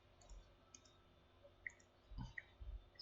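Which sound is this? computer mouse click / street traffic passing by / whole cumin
computer mouse click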